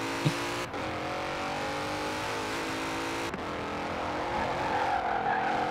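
Sports car in the Forza Horizon 4 racing game driving over a rough, uneven shortcut, with a steady engine drone and occasional bumps and thuds throughout.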